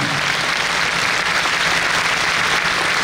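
Audience applauding during a Catholic talk on family and temptation by Padre Chucho, a steady, even wash of clapping from a large crowd, loud and unbroken, with no speech.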